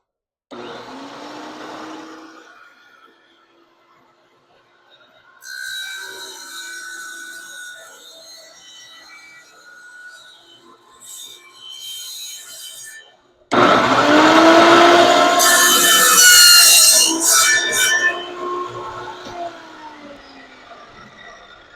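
A table saw with a tenon jig cutting wood, whining up in short bursts, then a long loud cut with a harsh grinding roar from the blade biting into the wood, heard close and alone.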